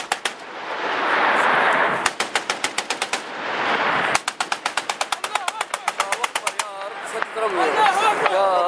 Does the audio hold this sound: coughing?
no